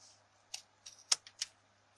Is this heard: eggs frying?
no